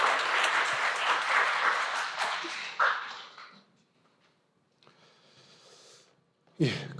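A church congregation at a Sunday service breaks into loud, sustained applause for a pastor stepping up to speak, and the clapping fades after about three seconds; quieter room sounds follow, then a brief voice.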